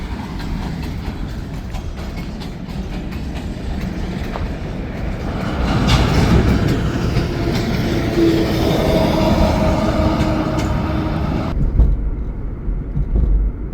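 A train rumbles past nearby, a steady heavy roar with rhythmic clacking of wheels, building louder midway before cutting off abruptly near the end.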